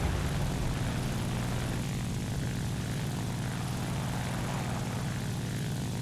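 A WWII-era A7M1 (NK9H) propeller fighter in the War Thunder flight game roars in a steady, loud, unbroken engine drone as it dives at high speed.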